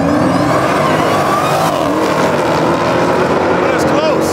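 Dodge muscle cars at a drag strip, a Demon 170 and Hellcat among them, roar loudly and continuously with a high supercharger whine, engine sound filling the whole stretch with the odd voice underneath.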